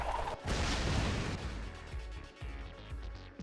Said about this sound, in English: Gunfire, sword attack.